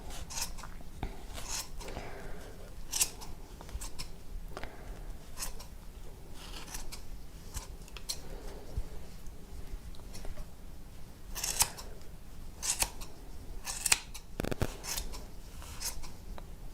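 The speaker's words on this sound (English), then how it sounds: "get your nice sharp scissors and cut all your loops" Scissors snip repeatedly through yarn, close and quiet, with irregular crisp cuts and soft rustling between them.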